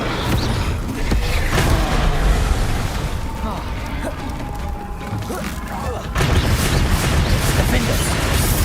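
A fire spell erupts in Hogwarts Legacy combat, heavy whooshing bursts and crashing thuds in two loud surges separated by a quieter stretch, with game sounds in between.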